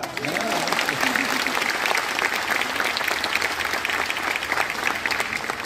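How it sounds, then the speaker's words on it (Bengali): An audience at a stage show claps continuously in dense, sustained applause from start to finish, close and fairly loud. "বাঘিনীদের জন্য হাততালি হবে না?"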